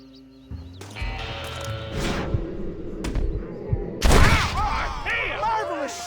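Gunfire in Red Dead Redemption, a few sharp loud shots with a heavy burst near the end, mixed with hoofbeat-like thuds, game effects and shouted voices.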